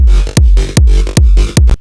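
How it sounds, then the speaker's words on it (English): Acid bass line pumping under a kick drum with full sidechain compression, four loud kicks in a steady rhythm, each ducking the whole bass so it swells back between hits. "if I was just to apply a sidechain on the whole thing"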